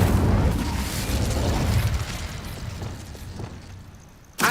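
An Incendio fire spell goes off in Hogwarts Legacy, a loud rumbling burst that slowly fades, followed by a sharp new pop right at the end.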